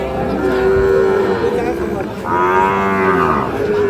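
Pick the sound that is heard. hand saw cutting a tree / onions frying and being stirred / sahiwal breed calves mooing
sahiwal breed calves mooing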